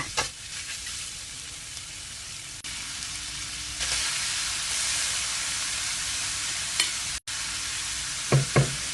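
Meatballs and bamboo shoots stir-fry with basil in a hot pan, a loud continuous hissing sizzle that swells after fresh liquid is added, with occasional scrapes and knocks of the utensil and one brief dropout.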